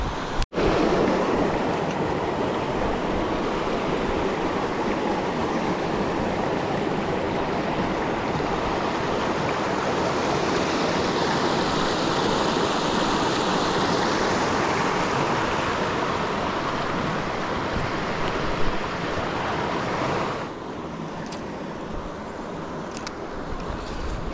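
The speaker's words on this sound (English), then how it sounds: "Big water hole here on the downstream side of the rapids waterfall." Rapids spill over a waterfall into a deep, clear water hole, a loud, steady rushing roar that stays close and constant, easing slightly near the end.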